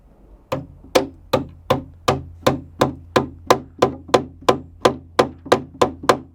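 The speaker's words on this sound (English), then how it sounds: "There's a tab on this that we're going to hammer in to the wood." A metal bracket tab is hammered into the wooden side of a garden bed with about fifteen evenly spaced, sharp, ringing blows that arrive at a steady rhythm after a brief quiet start.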